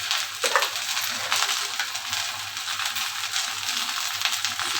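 Okra frying in a pan with spices, a steady broadband sizzle and crackle holding at an even level from start to finish, with no voices present.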